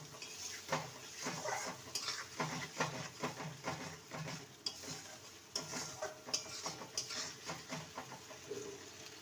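A spoon scrapes rhythmically around a pan, stirring a thick tomato paste with repeated strokes over a soft sizzle.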